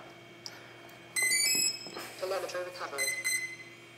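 Electronic speed controllers on a quadcopter with a 4-in-1 Q Brain ESC emit short, high-pitched calibration beeps in a few tonal bursts after power-up, close and fairly loud over a faint background hum.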